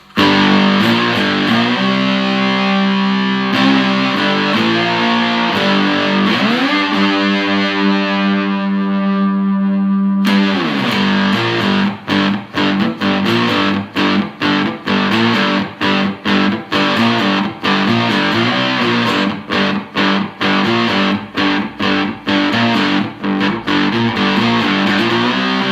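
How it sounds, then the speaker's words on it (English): An electric cigar box guitar played through a heavy fuzz distortion pedal, with sustained buzzing chords and then choppy, rhythmic strummed bursts, loud and alone. "Let's kick in a little bit of distortion with the noddy fuzz."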